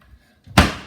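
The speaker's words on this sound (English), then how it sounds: "Open this door, have a look at this." A house door is pulled open with a short rattle of the handle followed by a loud, sharp thud as it swings, the sound fading quickly afterward.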